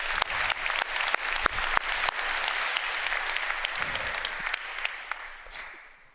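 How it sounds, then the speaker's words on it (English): Audience applause at the Web3 Summit 2019 tech conference, a dense crowd of claps with sharp individual hits that swells, holds steadily, then thins and fades away toward the end. "So a huge round of applause for the organizers of the event, because this is awesome"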